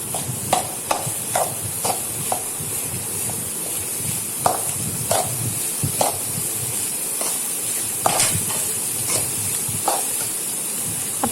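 Onions sautéing in a pan for kuzhi paniyaram, a steady close sizzle and hiss broken by repeated scraping stir strokes at an irregular rhythm throughout.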